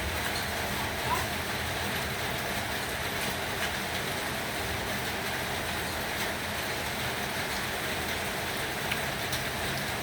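Steady, dense hiss of rain falling continuously, close and even, with no pauses or other clear sounds.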